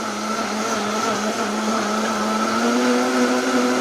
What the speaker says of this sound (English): we've been about a minute and 20 seconds or so on the blender here